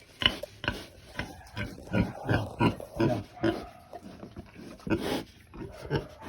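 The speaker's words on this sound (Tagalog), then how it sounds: "Malaki din naman ng baboy." Pigs in a backyard piggery grunt and oink in a run of short, close bursts through most of the stretch, with no talk over them.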